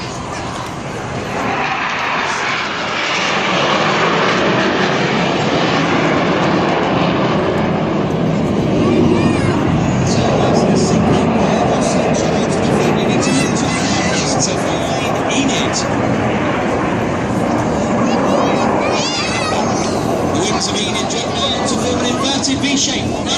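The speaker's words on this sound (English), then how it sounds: "There's a lone jet. His smoke comes on." Red Arrows display jet flying at the 2014 Rhyl Air Show, a loud, sustained roar that swells and holds through the whole pass.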